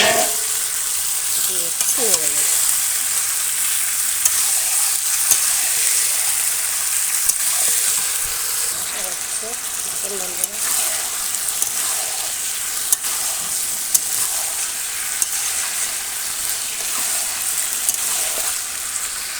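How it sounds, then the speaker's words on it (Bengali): Chicken meat sizzling steadily in a pan over a coal fire while being stirred, a loud continuous fry hiss with occasional scraping, and a voice heard briefly beneath it. "আমি মাংসটা দিয়ে দেবো এখন"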